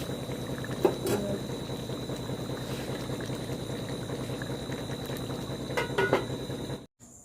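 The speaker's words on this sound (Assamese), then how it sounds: "এতিয়া 5 মিনিটমান উতলাৰ পিছত এইখিনি মই নমাই থৈ দিম।" Chicken curry with sliced green chillies bubbles in a pot, making a continuous close boiling burble with a couple of light utensil clinks before it cuts off abruptly.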